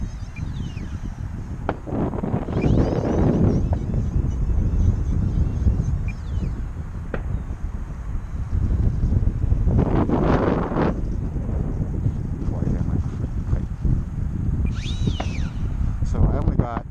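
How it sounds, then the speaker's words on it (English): Gusty wind buffets the microphone while an E-flite UMX Citation Longitude twin 30mm EDF RC jet flies on a 3S battery, a steady rumble swelling into louder gusts throughout, with a person talking over it at times. "Very gusty winds, as you can tell."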